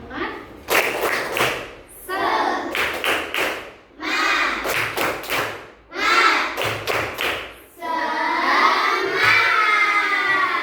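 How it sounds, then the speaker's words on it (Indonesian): Young schoolchildren perform a rhythmic 'tepuk semangat' clapping chant in a classroom lesson: bursts of sharp group claps in set patterns alternate with shouted chanted phrases, ending on a long loud group cheer. "kita tepuk semangat dulu ya anak-anak ya"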